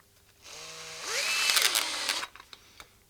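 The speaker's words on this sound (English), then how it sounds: "And then once it's cut up, I put the drill in reverse." A power drill bores into a guitar pedal enclosure: the motor whines up in pitch, then a loud, close grinding runs for about two seconds before cutting off, followed by a few faint clicks and taps.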